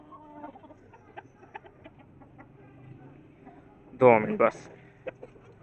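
Hens clucking softly in scattered short calls around a backyard coop, with one louder, agitated burst of squawking near the end, while someone talks over them.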